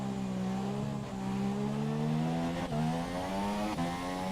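A race car lapping in a sim racing game league round at the China circuit, its engine holding a steady tone and climbing in pitch through gear changes, loud and close with no talk.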